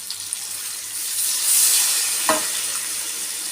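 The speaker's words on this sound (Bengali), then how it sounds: "এখন আমি মাছের মধ্যে সামান্য পানি দিয়ে দিল" Water poured into a pan of sizzling fish sets off a loud, steady frying hiss that swells briefly, with a sharp splash-crackle near the end and no talk.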